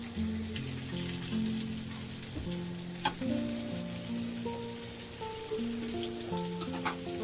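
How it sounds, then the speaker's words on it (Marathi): Surmai (kingfish) slices fry in a pan with a soft, continuous sizzle and occasional light crackles, heard over a steady background tone and faint stirring. "दुसऱ्या बाजूने पण फ्राय करून घेतलंय या बाजूने फ्राय करून घ्यायचंय"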